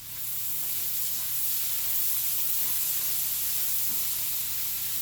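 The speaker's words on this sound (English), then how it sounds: "So I got my onions over here." Onions cook in a hot pan while caramelizing. A steady, soft sizzle with a fine hiss runs unbroken throughout, close by and fairly quiet, with no talk over it.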